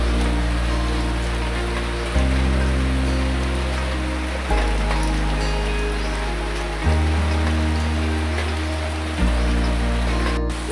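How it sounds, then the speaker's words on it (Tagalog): A steady, heavy downpour fills the scene with loud, even rushing and spatter of rain on nearby surfaces, continuous throughout without any talking. "Grabing lakas ng ulan."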